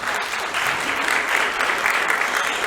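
An audience at a board meeting gives steady, dense applause, continuous clapping at an even level throughout.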